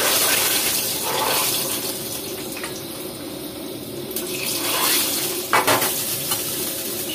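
Hot seasoned oil, heated until it sizzles, is poured into a pot of soup, giving a steady wet sizzle and hiss with bubbling and a few brighter splashes toward the end, with no talking.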